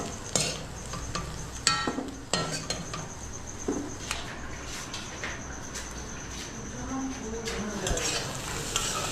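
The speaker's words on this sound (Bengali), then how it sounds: "একসঙ্গে গোটা ডিমগুলো ভাজা হচ্ছে না, এই জন্য গুঁড়ো গুঁড়ো করে ভেজে নিচ্ছি" Crumbled eggs fry in a pan with a constant sizzle, while a utensil repeatedly scrapes and clinks against the metal.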